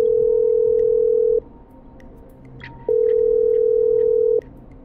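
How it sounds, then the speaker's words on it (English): A telephone in the video game Killer Frequency plays a steady tone, breaks for a short gap with faint clicks, then sounds the same tone again, loud and close, with nobody speaking. "I'm dialing."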